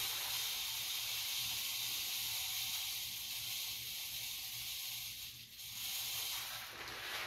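Dry rice pours steadily into a 2-liter plastic soda bottle, a continuous hissing rush of grains that thins briefly near the end before resuming.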